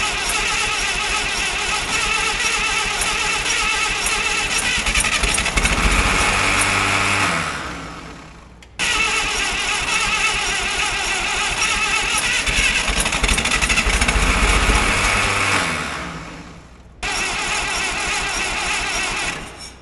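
An old CAT Towmotor forklift engine that sat for years cranks over in three long, loud, steady bursts nearby, each one droning for several seconds before cutting off abruptly.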